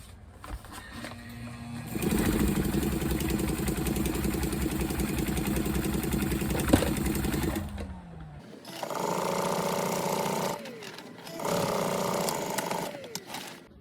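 A regular sewing machine without a walking foot stitches a sail patch in a long continuous burst of rapid stitching, stops, then starts again in two shorter runs with brief pauses between.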